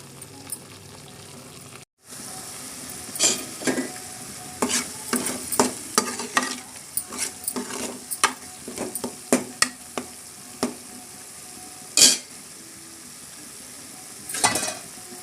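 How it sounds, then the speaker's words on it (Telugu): Onion paste fries in oil for a Godavari-style fish curry, with a spoon scraping the pan in a quick, uneven run of stirs over a steady low sizzle and no voices. "ఈ ఉల్లిపాయ పేస్ట్ బ్రౌన్ కలర్ వచ్చేదాకా ఫ్రై చేసుకోవాలండి"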